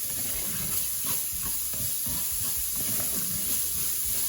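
A steady gentle sizzle rises from a pan as the onion base for a beef lasagne sweats with salt, with occasional soft stirring scrapes over the constant hiss.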